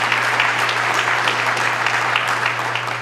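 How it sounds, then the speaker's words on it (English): An audience at a mayor's budget address claps steadily, a dense sustained patter of many hands with a low hum underneath. "Yay, clapping."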